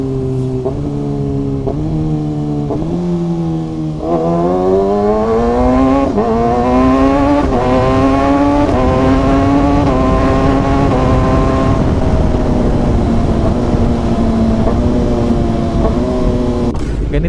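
A Kawasaki ZX6R sport motorcycle on a countryside road, its engine loud and close throughout, revving up through the gears with rising pitch and shift breaks, then holding a steady high drone with wind roar.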